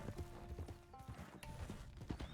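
A horse's hooves clip-clop in a Western roleplay video game, a quick run of soft, even hoofbeats over a busy background of music and game ambience.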